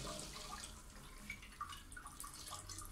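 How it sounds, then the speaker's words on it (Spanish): A newly installed toilet cistern fills with water, giving a steady faint hiss and trickle with small drips, close by and with no talk. "El depósito quedó lleno al nivel de agua que recomienda el fabricante."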